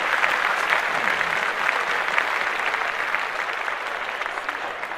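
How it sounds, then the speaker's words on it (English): A small group of podcast hosts claps, a continuous rattle of close hand claps holding steady and tapering slightly toward the end. "I'm sorry, we gotta clap that up real quick."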